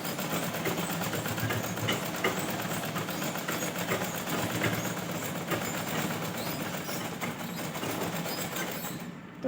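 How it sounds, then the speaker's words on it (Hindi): A sewing machine runs steadily, stitching a double seam across a blouse, a dense continuous mechanical whir holding close and loud throughout before stopping abruptly at the end. "फिर इसके ऊपर डब सिलाई लगानी है"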